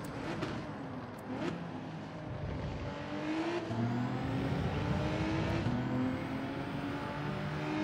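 A race car in Gran Turismo 7 at Laguna Seca, engine revving steadily through the gears with rising and falling pitch sweeps, close and continuous, with brief tire squeal.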